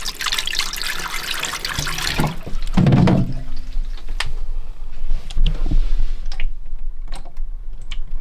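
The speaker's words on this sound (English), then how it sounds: "Gravity should pull all of the water from the sink into here." Water runs from a van's kitchen sink down through the drain into a wastewater tank below, with a steady close rush at first that fades into scattered gurgles, drips and small knocks.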